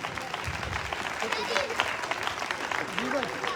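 A church audience at an evening Christian preaching event in Islamabad claps to welcome the preacher, a dense, steady wash of applause filling the hall with a voice carrying over it.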